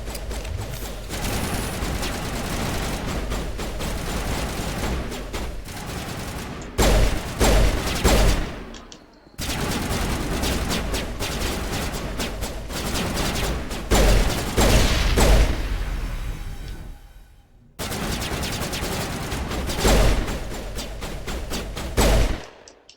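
Rapid gunfire crackles through a firefight in the game Mass Effect, dense bursts of shots with booming impacts, broken by a few brief pauses, loud and close throughout.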